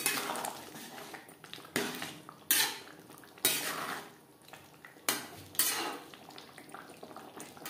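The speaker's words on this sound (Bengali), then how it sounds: "বেশ ভালো করে মিক্সড করে দেওয়ার পর" Spoon scraping and clanking against a pan while kohlrabi curry is mixed, several distinct knocks and scrapes spaced irregularly, close and fairly quiet.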